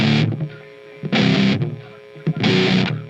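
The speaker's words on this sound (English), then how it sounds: "So there's the main riff" Distorted electric guitar playing the main riff of Papa Roach's "Last Resort", heard as loud chugging bursts in a repeating pattern with short gaps between phrases.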